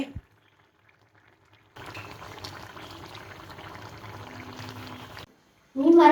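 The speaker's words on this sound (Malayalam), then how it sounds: "മീൻ തോരൻ തിളച്ച്" Fish thoran boils in a pot, giving a steady bubbling hiss that runs for several seconds after a quiet start and stops abruptly, followed by a brief louder clatter.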